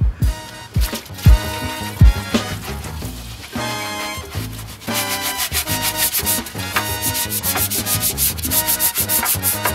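A brush or pad scrubs hard at baked-in dirt on the engine bay metal of an Integra being prepped for a K20 swap, with loud, close, rhythmic rubbing strokes and short pauses.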